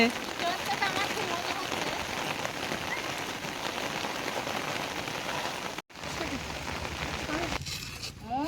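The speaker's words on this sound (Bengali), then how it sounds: "বৃষ্টিও পড়ছে" Persistent rain patters and hisses close at hand, briefly cutting out before resuming, with some voices faintly mixed in beneath the downpour.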